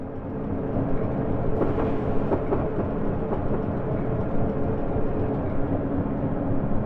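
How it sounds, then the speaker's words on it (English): Class 421 4-CIG electric passenger train braking on the Chatham Main Line in Train Simulator Classic, a steady close rumble of wheels and running gear holding at constant loudness throughout, with no voices. "brakes are pretty rapid. Stopping this train,"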